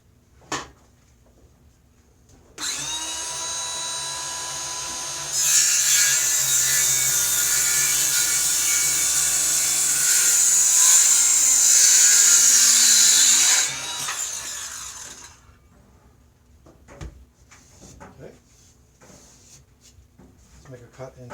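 A Ryobi 18V 5-1/2 inch circular saw spins up to a loud, steady whine and bites through 3/4 inch plywood, the cutting pitch rising in the middle before the blade winds down, followed by quieter handling knocks.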